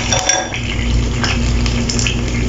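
A spoon scrapes and clinks against a metal pot while milk is stirred into zarda sweet rice, a steady close clatter over a low cooking hiss.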